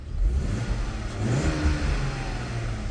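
A Ssangyong Chairman W sedan's inline-six engine revs up and then settles, a smooth, mid-pitched hum heard up close and steady for a few seconds, with no talking.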